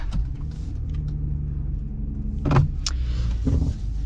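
A Ram Tradesman pickup's turbocharged engine starts with a brief cranking burst and settles into a low, steady idle rumble, heard close and alone.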